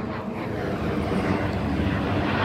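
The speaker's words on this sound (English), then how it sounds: "And I can hear another plane." Airplane flying overhead near Stockport with trains nearby, a broad steady roar of engine noise that holds loud and even for the whole stretch.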